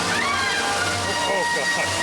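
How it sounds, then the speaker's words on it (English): Water surges and sloshes into the Red Sea crossing on the Universal Studios Hollywood backlot tour tram ride, 2002, a steady close rush of splashing with voices and the ride's announcer talking over it. "you get wet as we travel through the Red Sea. The water's coming in."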